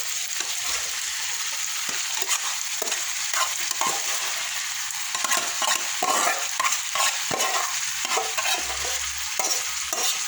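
Boiled mung beans (munggo) go into a hot pan and are stirred as they fry, giving a steady close sizzle broken by repeated scraping and stirring strokes, with no talk.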